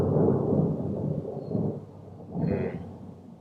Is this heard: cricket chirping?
no